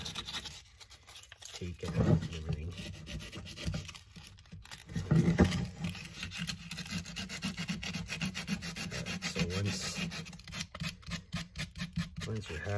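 Sandpaper rubs over a soft cottonwood carving in rapid back-and-forth strokes, a close, continuous scratchy hiss with short pauses, under occasional talk.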